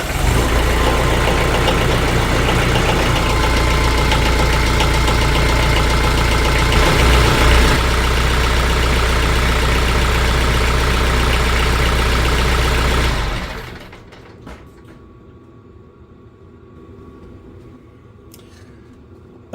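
A TYM T474 tractor idles after an oil change with Shell Rotella T4 15W-40, a loud, steady engine rumble close by for about thirteen seconds before it drops sharply to a much quieter, softer running sound.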